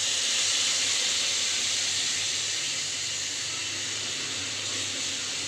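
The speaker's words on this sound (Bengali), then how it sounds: "এবার এর মধ্যে জল দেব।" Water hitting a hot pan for a Bengali guli fish jhal curry gives a loud, steady sizzling hiss that carries on without a break and fades only slightly.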